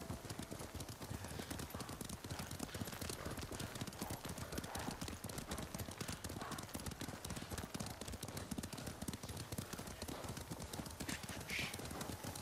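Horse hooves clip-clop rapidly and continuously in the Ghost of Tsushima video game, a steady galloping rhythm of sharp hoof strikes with an occasional faint whinny.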